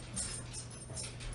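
A dog whimpers faintly in the background of a room, soft and intermittent over a steady low hum, with no talk.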